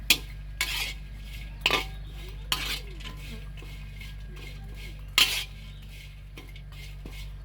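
A spoon or spatula stirs while something dry-roasts in a pan for a fermented fish paste seasoning, giving sharp metallic scrapes and clinks every second or two over a steady low background hum.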